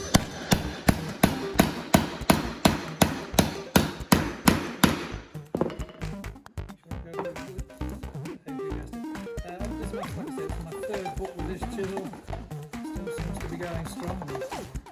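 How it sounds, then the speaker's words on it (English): A steel chisel hammered into the pages of a book while hollowing out a book safe, with a run of sharp, evenly spaced loud blows that give way to rapid, irregular chopping and tapping up close. "It's probably blunting the chisel."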